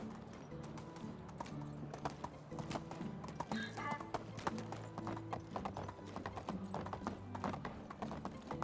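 Horses in the Medieval Dynasty video game clop along in a steady, quiet hoof rhythm, with a faint whinny mixed in among soft background game sounds.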